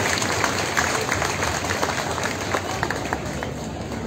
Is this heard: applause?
yes